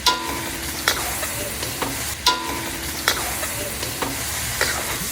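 Garlic sizzles and crackles in hot oil in a frying pan, a steady close hiss broken by sharp periodic scrapes and clacks of stirring roughly every second.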